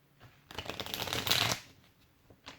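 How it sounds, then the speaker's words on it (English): A deck of tarot cards riffled and shuffled in one sustained, crisp burst of rapid flutters, close and fairly loud, then a faint tap afterward. "This deck is giving me a hard time with shuffling."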